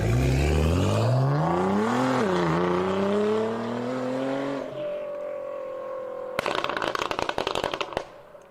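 A car engine winds up through rising revs with a gear change, its whine climbing and levelling off, followed by a burst of crackling rattles.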